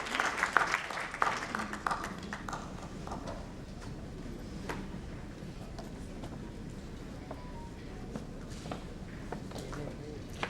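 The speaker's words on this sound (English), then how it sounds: "A big round of applause to Parul ji for her wonderful contribution in the panel session." A conference audience claps for a panelist after a panel discussion, strongest in the first couple of seconds and then thinning to a low murmur of room noise with scattered claps and footsteps.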